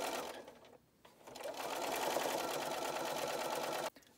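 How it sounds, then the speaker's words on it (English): A sewing machine stitches darts on a fabric bowl cozy in close, steady whirring runs, one short burst, a brief pause, then a longer continuous stretch that stops abruptly near the end. "I'm going to continue and keep sewing all of the darts on one side by stitching off a few stitches and then now stitching the next one"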